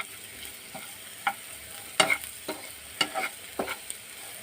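Bitter gourd fries over a low flame in a pan with spice powder. Quiet sizzling runs under several distinct stirring scrapes and clinks, with no voices.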